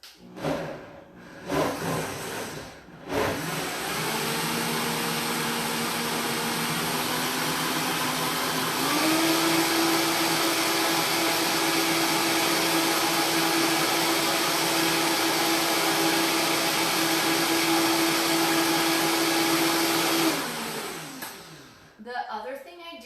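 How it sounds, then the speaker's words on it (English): A blender whirs loudly and steadily through a coconut milk and spinach smoothie, its pitch rising as it speeds up, then winding down; brief handling noises come at the start and end. "While blending the smoothie is I watch the center"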